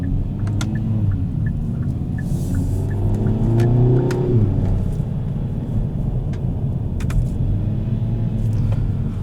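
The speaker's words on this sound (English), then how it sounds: "It adds a little bit of DSG farts from this not aftermarket, but the upgraded sports exhaust featured on the GT." A 2020 Kia Forte GT with its upgraded sports exhaust and automatic transmission, heard as a loud, close engine rumble that rises under acceleration, with a shift near the middle and a steady drone afterward.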